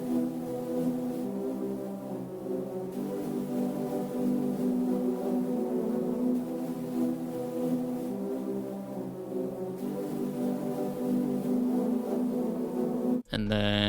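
An ambient synth pad from Kontakt drones on with soft, sustained harmonic layers that shift gently through chord changes, steady and unbroken for a long stretch before cutting off abruptly near the end.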